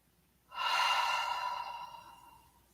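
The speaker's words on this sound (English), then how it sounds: "just take a couple of deep breaths" One slow, deep breath during a yoga session, a soft, close airy exhale that swells quickly and gradually fades away, alone in a quiet room.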